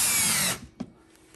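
A power drill whirs steadily for about half a second driving a screw into a wooden template, then cuts off, leaving a brief clunk and faint workshop noise.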